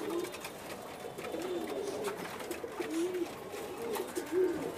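Pigeons kept shut in a loft coo in soft, repeated low calls throughout, steady and moderately near, with no talking.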